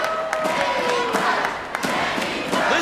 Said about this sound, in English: Listen to this crowd firmly behind their favorite, Kandi Krush.